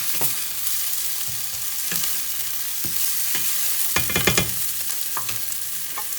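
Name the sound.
stirring garlic and jalapeno frying in pan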